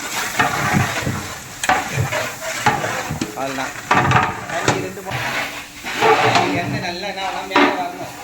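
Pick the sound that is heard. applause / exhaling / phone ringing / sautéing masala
sautéing masala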